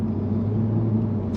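Low, steady exhaust rumble from a 2021 Infiniti Q50 Red Sport 400 with a louder sport exhaust and intake, heard from inside while cruising, an even drone with no voices.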